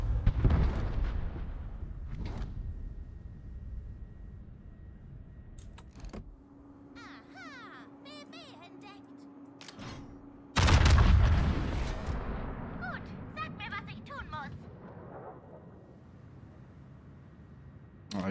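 Naval gunfire and shell explosions in a boat video game: heavy booming blasts roll through the opening seconds, then a quieter lull with faint clatter before another loud concussive burst lands, trailing into rumbling echoes.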